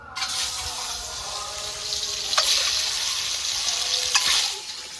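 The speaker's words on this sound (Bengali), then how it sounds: "এবার ডিমগুলো ভেজে নেব।" Eggs rubbed with salt and turmeric frying in hot oil for egg curry: a loud, continuous close-up sizzle with a couple of sharp spatters along the way.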